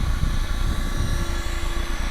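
A small aircraft flies in a 10 to 15 knot wind, giving a steady, loud rotor-like drone with broadband wind rush throughout, no voices.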